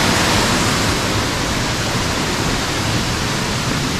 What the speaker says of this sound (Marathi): एकदम फ्रेश फ्रेश पाणी इथून वाहतं